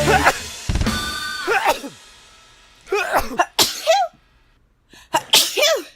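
Several loud, sharp sneezes burst out close up, spaced a second or two apart, with brief breaths and small vocal sounds between them.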